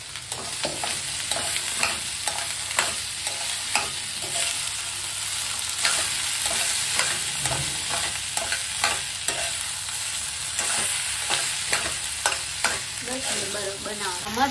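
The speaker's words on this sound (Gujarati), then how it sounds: "ભાત કોઈએ ના ખાધા, એટલે એના માટે અમે પછી વિચાર્યું કે વઘારી દઈએ, હે ને હેલી?" Leftover cooked rice tempered and stir-fried into pulao in a home kitchen, a steady close sizzle with repeated scraping and stirring strokes of a spoon against the pan, no voices.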